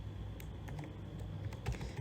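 Computer keyboard typing C code, a steady run of close, moderately loud key clicks with a few sharper taps, no talk.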